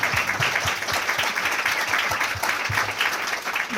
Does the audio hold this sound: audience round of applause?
yes